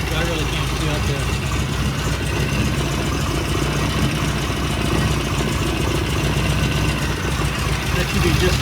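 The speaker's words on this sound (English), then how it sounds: "So now it's idling just fine." A carbureted car engine runs at a steady idle around 900 RPM at its first start after a rebuild, a dense, continuous low rumble heard close up with someone talking over it.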